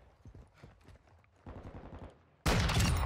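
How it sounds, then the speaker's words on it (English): Sniper rifle fire in Call of Duty: Modern Warfare II: soft rhythmic thumps and footsteps build up, then a sudden loud, sharp blast erupts and rings out, filling the final half-second. "Just sniper shots for days."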